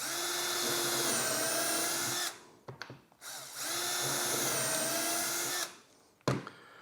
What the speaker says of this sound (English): Now all I have to do is pre-drill my holes.